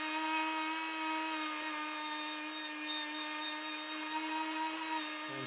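A high, steady whining power tool grinds surface rust off the chrome of a vintage clothes iron, running continuously and loud throughout with a constant pitch.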